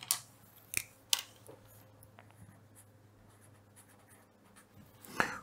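Handwriting the word for a motor stator, marker or pen strokes scratching on a board in short bursts, with a few sharper taps near the start and end and quiet stretches between.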